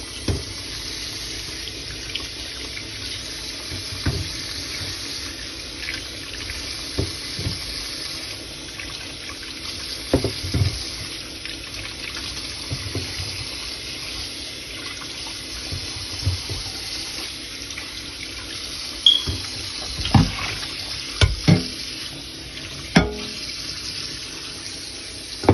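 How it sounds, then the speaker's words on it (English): Tap water runs into a kitchen sink as onions are washed under it, a steady close trickle and splash with occasional louder clunks and splashes as the onions are handled, and no voices. "I am washing my onions so that I can blend them"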